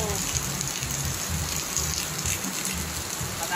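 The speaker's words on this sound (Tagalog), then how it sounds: "Kaya lang, sobrang lakas ng ulan." Heavy rain pours steadily and loudly, a dense continuous hiss of drops drumming on a surface with no breaks.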